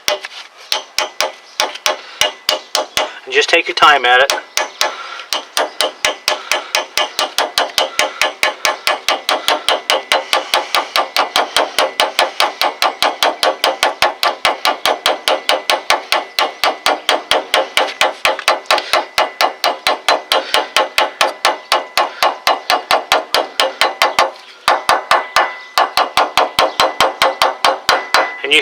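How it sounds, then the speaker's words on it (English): A hammer taps a new axle seal into a Ford rear axle housing, a long run of quick, evenly spaced metallic taps, close and sharp, with a short spoken remark early and a brief pause near the end. "I'll just use a hammer and kind of tap it in, start it around the outside and the inside."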